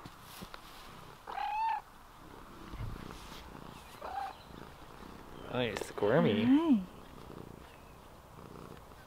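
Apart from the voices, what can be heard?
cat purring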